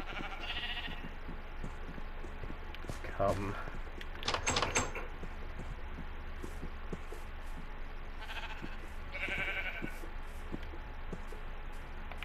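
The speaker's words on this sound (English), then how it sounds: "Pink sheep, get over here." Pink sheep bleat a few times in a video game, short cries rising over a steady hum while a person talks intermittently nearby.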